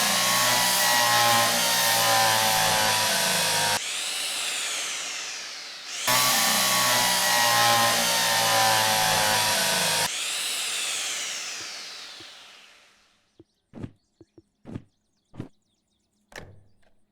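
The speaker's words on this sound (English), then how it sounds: "Drill." A power drill in the train simulator game Derail Valley whirs loudly in two long sustained bursts with pitch sweeps as it spins up and winds down, then several short sharp knocks and clicks follow.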